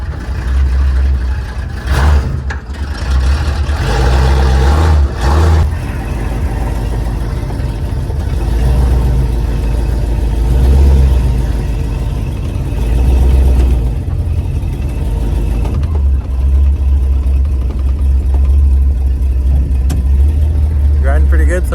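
Two-wheel-drive mud buggy engine rumbling loudly as the machine drives around, the note rising and falling with the throttle, while a person talks over it throughout.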